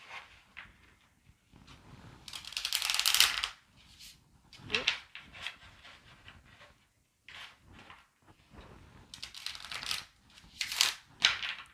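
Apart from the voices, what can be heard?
shuffling tarot cards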